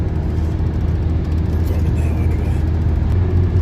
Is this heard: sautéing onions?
no